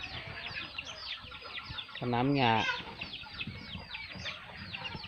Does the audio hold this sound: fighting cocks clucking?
yes